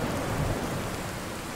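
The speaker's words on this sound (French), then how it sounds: "Attends, il pleut." Steady rain pours in the Fallout 4 game world, a dense, continuous hiss of falling water with a low rumble beneath it, fairly close and unbroken throughout, with no voices.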